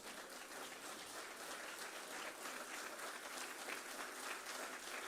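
Students at MRSPTU Bathinda clap in a standing ovation, a thick continuous wash of many hands that stays steady and somewhat distant, with no talk over it.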